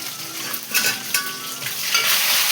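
Curry leaves sizzling in a pan of frying eggplant, a loud steady crackling hiss with sharper spits and pops, close up, no talking.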